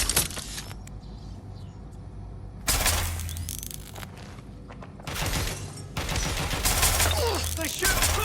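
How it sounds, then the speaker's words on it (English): Bursts of gunfire in the Watch Dogs Legion video game, loud broadband volleys arriving in separate clusters with a low engine-like rumble and shouting beneath. "They shoot up! Taking fire!"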